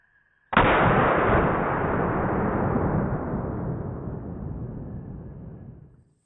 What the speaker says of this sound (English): A little bit of shooting here with the Marlin 1894